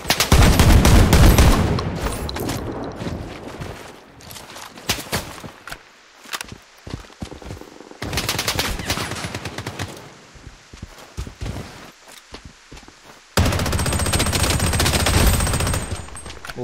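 Loud automatic gunfire from the shooter game Blood Strike comes in dense sustained bursts, with quieter gaps between them that hold scattered single shots and footsteps.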